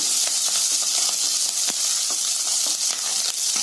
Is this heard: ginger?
yes